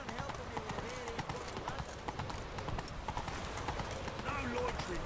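Roach the horse gallops in The Witcher 3 with a quick, even rhythm of hooves pounding close by, a faint whinny near the end, and a voice talking briefly over it.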